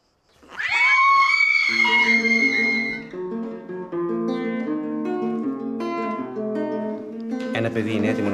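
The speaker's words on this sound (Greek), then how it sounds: "Το ζώο που μας απειλεί λέγεται γάτα." A cat lets out a loud, drawn-out yowl with rising and falling pitch, followed by tonal sustained sounds that continue beneath it.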